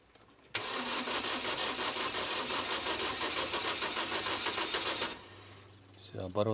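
A Toyota Vitz with a no-start fault cranks for about five seconds, the starter whirring in a fast steady chug without catching, then cuts off; brief voices follow.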